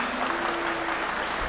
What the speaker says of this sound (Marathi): आपण त्यांचं टाळ्या वाजून स्वागत करू